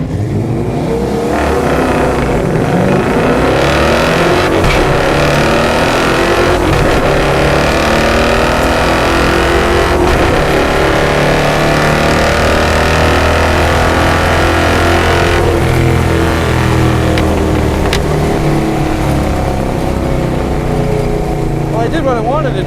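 A 1145 hp Chevelle drag car launches with the clutch feathered off the line, its engine roaring loud and close, climbing and shifting through a continuous sweep of rising revs for over twenty seconds.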